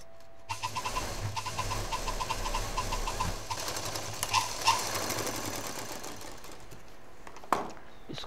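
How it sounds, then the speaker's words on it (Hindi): A sewing machine stitches the border of a khadi-style bag, running in a steady close whir for about six seconds before it slows and stops, followed by a single sharp clack. "यहाँ से पूरा सिलते हुए डबल मशीन चलाएंगे"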